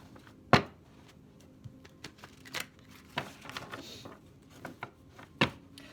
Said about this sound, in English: Hard to shuffle, but I love the deck.